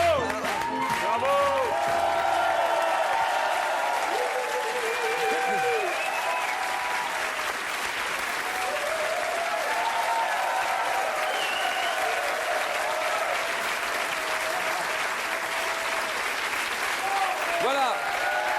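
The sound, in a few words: TV studio audience applauding the guests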